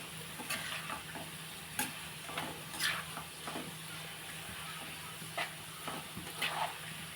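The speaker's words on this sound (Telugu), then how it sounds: "ఇదిగోండి వేసాను కదా, వేగుతున్నాయి." Pakoda fritters fry in hot oil, giving a steady close sizzle broken by several sharp crackling bursts as the batter hits the oil, with no voices.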